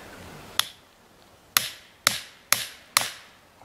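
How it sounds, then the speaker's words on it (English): A hatchet is driven into a tree with a hammer to pry off chaga, giving five sharp, ringing metallic strikes spaced roughly half a second to a second apart, close by and without talk. "I think I'm gonna use the hatchet and the hammer method."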